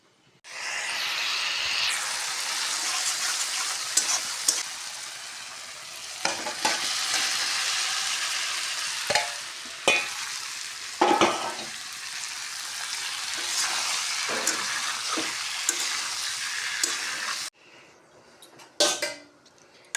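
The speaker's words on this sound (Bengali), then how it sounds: "এই তো কড়াই বয়ে দিছি এখন মশলা বাজমু বাজিয়ে তরকারি বানাইম" Spices sizzle in a wok with cauliflower and potato, under a continuous close frying hiss broken by repeated scrapes and clinks of a spatula stirring against the pan.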